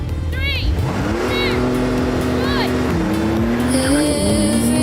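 A Porsche 911 Turbo 50 launching off the line at a drag race start, engine note climbing loudly through a gear change near three seconds, with squeaky high chirps and voices over the roar.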